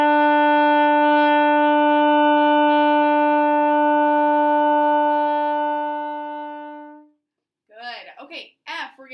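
A trumpet holds a single sustained E for about seven seconds. It is clear and steady, then fades out, and a voice starts speaking right after.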